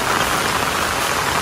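Heavy rain falls steadily over a cashew orchard during planting, a dense, loud, even hiss with no break.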